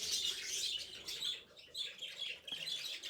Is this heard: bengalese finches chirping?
yes